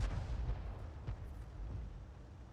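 Enemy artillery firing in the World of Tanks video game: a single deep, muffled boom rolls in and decays into a low rumble, fairly faint and distant.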